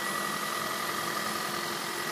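Steady hum of a 2017 Kia Niro hybrid's 1.6-litre four-cylinder engine idling under the hood, an even, continuous drone with faint vibration and no speech.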